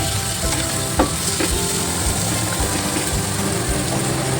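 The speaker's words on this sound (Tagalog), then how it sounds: "Igisa lang siya guys, ganyan lang." Garlic, onion and tomato sautéing in a pan for mung bean stew, a steady close sizzle with scraping stir strokes and occasional clatters throughout, no talking.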